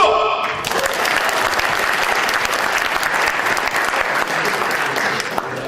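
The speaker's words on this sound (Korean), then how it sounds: "관계인 여러분의 노고에 대해서 박수!" A hall full of people at the Wonkwang University architecture department's 40th anniversary bursts into sustained, even applause for the event organizers, following a brief voice at the very start.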